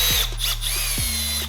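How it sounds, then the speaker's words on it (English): A power drill whirs steadily up close while drilling out the works of a wheel in a shop during an AC Cobra replica build, the motor pitch dropping and restarting once midway. "We'll drill the works out."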